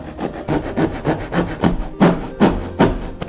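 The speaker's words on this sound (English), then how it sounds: "Maybe I can just saw a couple millimeters off the end of that." A hand saw cuts a couple of millimeters off the end of a rattan practice sword, giving close, loud, rhythmic rasping strokes, about eight of them, that grow stronger toward the end.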